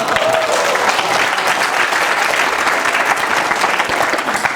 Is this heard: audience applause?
yes